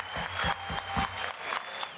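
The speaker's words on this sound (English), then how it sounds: "So please give them a round of applause." A round of applause for council nominees at the Oxford House World Convention 2021 general session: sparse, rhythmic claps, fairly quiet and somewhat distant, with no talking.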